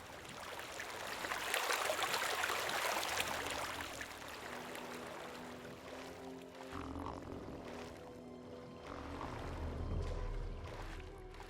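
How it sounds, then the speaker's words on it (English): Loud flowing water in the video game Gothic II, a steady broadband rush that swells and fades over several seconds with game music and tones layered beneath. "There's some loud water."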